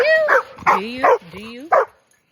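A puppy barks three times in quick yips, with whiny, rising tones trailing between the barks, close and loud before falling silent.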